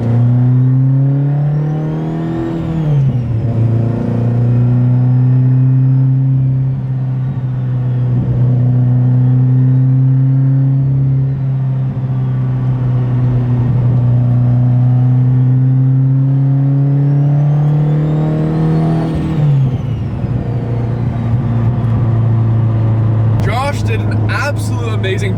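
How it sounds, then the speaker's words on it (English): Steady engine drone from an 1100-horsepower Subaru STi cruising on a highway, a low constant hum with a couple of brief pitch dips from throttle or gear changes and road noise throughout. "I'm just on the highway cruising, about to go in 5th"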